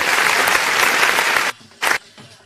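Spectators clapping at a kabaddi match, a dense burst of applause that stops abruptly, followed by one short clap flurry and quiet.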